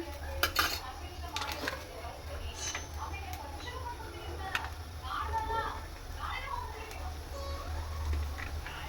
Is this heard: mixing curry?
yes